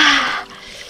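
A swimmer plunges into a cold freshwater lake at Três Marias, Minas Gerais, making a short, loud, hissing splash that fades quickly, with no voices.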